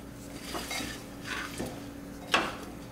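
Vegetables coated in spices being mixed in a pan for Sindhi kadhi: a few sweeping spoon-against-metal scrapes, the last one sharper and louder, with a faint sizzle underneath.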